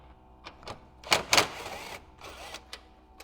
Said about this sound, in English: Now we're going to go loosen this bolt, which is holding the air box in.